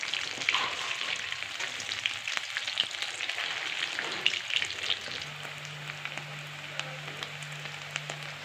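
Pieces of beef chilli fry in hot oil in a pan, a close, busy crackle and spatter throughout; partway through, a low steady hum starts up underneath.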